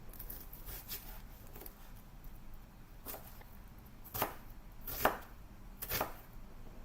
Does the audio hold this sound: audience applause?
no